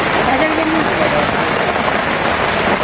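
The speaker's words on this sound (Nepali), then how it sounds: "फेरि पनि पानी पर्न थाले।" Heavy rain pours steadily over a roadside snack shop in Tokha, Kathmandu, as a dense, unbroken hiss fills the scene from end to end, with voices faintly present.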